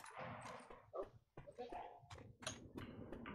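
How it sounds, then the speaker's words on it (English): A creature in Left 4 Dead 2 growls and snarls in short, rough bursts among game noises, loud and close, with a player talking over it. "Oh, something's growling."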